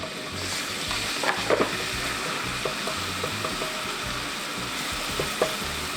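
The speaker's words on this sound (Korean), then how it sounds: "기름 좀 둘러주시고요. 마늘 한 스푼. 마늘 두 스푼 할게요." Two spoonfuls of garlic frying in oil in a pan, a steady close sizzle throughout with a few light stirring clicks, no speech.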